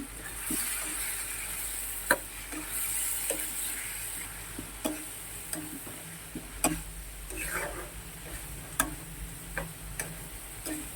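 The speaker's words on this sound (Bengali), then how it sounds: "সামান্য একটু জল দিয়ে দিলাম আরও ভালো কষানোর জন্য।" Prawn masala cooking in a pan after a splash of water, with a soft background sizzle broken by sharp, regular spoon taps and scrapes against the pan.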